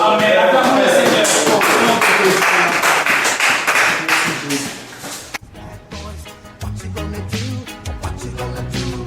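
A church congregation claps loudly and steadily in rhythm, with cheering voices mixed in, before the clapping thins out into scattered claps and other sounds near the end.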